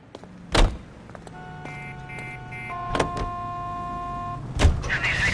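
A car engine hums at moderate volume with a few thumping impacts and whirring tones as a vehicle is driven in L.A. Noire. There is no talking.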